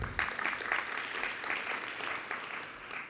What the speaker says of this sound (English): I told you to hold your applause, but keep doing it.